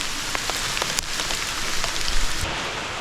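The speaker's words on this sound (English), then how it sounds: "I don't know how much the camera audio is picking up of this, but it is dumping. Hail." Hail dumps down outside a pheasant pen, a dense, steady hiss of pellets striking surfaces with scattered sharper individual hits, loud and continuous throughout, with no voices.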